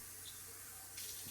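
Fresh water runs steadily into a tank, a soft continuous pour that swells slightly louder near the end.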